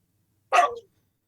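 A pet dog gives a single short, sharp bark indoors, near the microphone and otherwise surrounded by silence.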